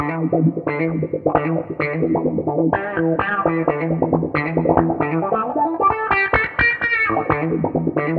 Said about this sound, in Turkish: otomatik vahlı bir ton kullanmak istiyorsanız mesela böyle bir ton yazdım